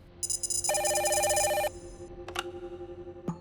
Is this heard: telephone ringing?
yes